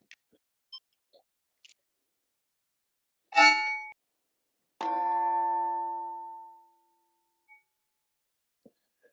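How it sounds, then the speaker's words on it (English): An Osight XR enclosed red dot sight with an RMR footprint is dropped onto the ground: one sharp impact, then a second loud hit that rings on with a metallic clang for more than a second, in otherwise quiet surroundings. "we're going to drop it and see how she holds up"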